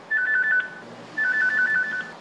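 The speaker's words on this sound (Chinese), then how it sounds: "这头电话还没讲完，另一边助理的电话又响。" An assistant's mobile phone rings in a Taipei city councillor's busy office, playing two bursts of a bright, warbling electronic ringtone separated by a short gap, clear and close.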